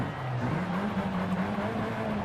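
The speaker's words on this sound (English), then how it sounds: "That sounds like a 4-cylinder to me." A four-cylinder car engine in the racing game Forza Horizon 5 drones steadily and close, its low hum rising slightly in pitch, with a faint hint of tire noise behind it.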